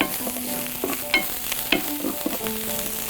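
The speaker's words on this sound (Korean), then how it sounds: "지금 대파와 건고추 넣어서 볶아주세요" Green onion and dried chili stir-frying in a pan, a steady crackling sizzle broken by scraping strokes of a utensil and a few sharp clinks.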